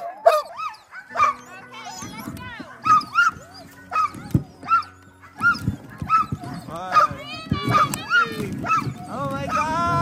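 Excited sled huskies in Lapland, Finland bark, yip and howl repeatedly in a loud, overlapping chorus before a sleigh ride, with people talking in between.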